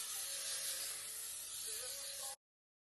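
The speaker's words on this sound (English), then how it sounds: "So when you're spraying your misty spray and shit, don't spray underneath your eye." A face mist spray bottle releases one continuous, close hissing spray lasting a bit over two seconds, then cuts off abruptly into silence.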